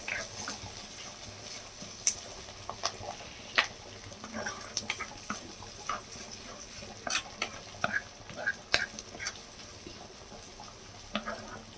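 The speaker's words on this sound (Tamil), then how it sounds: "வெங்காயம் நல்லா வதக்கிக்கலாம்." Onions sautéed in a pan for pepper chicken fry, with a soft continuous sizzle and irregular scraping clinks of a spoon as they are stirred. The sound is close but fairly quiet, with no speech.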